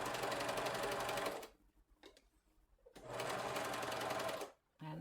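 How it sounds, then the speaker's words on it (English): A sewing machine stitches around a welt pocket through bulky, thick coat fabric, running in two loud sustained bursts with a quiet pause between them and a short restart at the end. "And then I just sew around with that."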